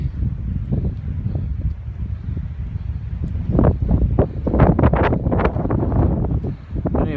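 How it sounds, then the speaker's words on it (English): Strong wind roars on the Appalachian Trail on a morning thru-hike day, a loud continuous rumble with rising gusts and buffeting against the microphone. "it's a different morning this morning. All right, very windy."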